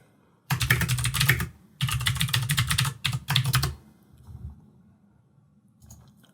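A password is typed on a computer keyboard in quick close bursts of key clatter, three runs of rapid tapping separated by short pauses, then quiet.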